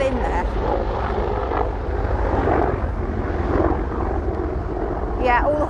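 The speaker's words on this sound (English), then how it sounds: "It's a military helicopter, in case you were thinking." A military helicopter flies low overhead near horses in a field, a steady rotor and engine drone holding loud throughout, with people talking over it.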